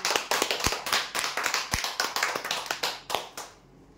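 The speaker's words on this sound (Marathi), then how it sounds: "जोरदार टाळ्या होत्या यांच्यासाठी" A crowd claps for a prize-draw winner at a weekly draw event, a moderately distant burst of applause with uneven, overlapping claps that fades out near the end.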